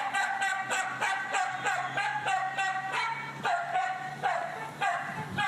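Many neighborhood dogs barking together, captured on an iPhone, a dense repeating chorus of yips and barks at a steady rhythm, somewhat distant and faint.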